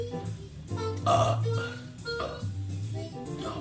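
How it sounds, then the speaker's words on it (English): A long, deep, rumbling belch, drawn out with a couple of gurgling pulses, loud and close. "Belch"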